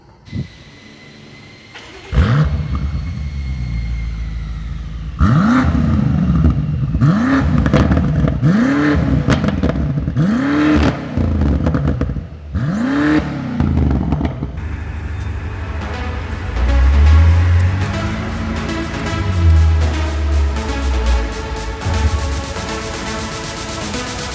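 A used BMW M8 Competition starts with a sharp engine bark, then gives a series of loud, rising revs one after another before it pulls away, its engine note swelling and falling as it drives.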